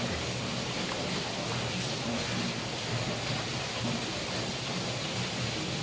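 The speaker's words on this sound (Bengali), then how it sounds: "খুব সুন্দর বৃষ্টিটা হচ্ছে বৃষ্টির খুবই দরকার" Heavy rain pours down in a continuous, even roar of broadband hiss that holds steady from start to finish, with no talking over it.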